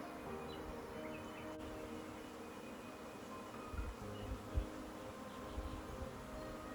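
Honeybees swarming at an apiary, a faint steady insect hum filling the air with a few soft low thumps and no talking.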